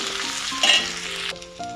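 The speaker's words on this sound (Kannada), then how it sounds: "ಈ ಈರುಳ್ಳಿಯನ್ನು ಒಂದು 2 ನಿಮಿಷ ಕಾಲ ಚೆನ್ನಾಗಿ ಫ್ರೈ ಮಾಡ್ಕೊಳ್ಳೋಣ." Onions with green and dried red chillies frying in a pan for tempering, a dense, loud sizzle with a soft stir and faint metallic clink, then the hiss abruptly drops lower.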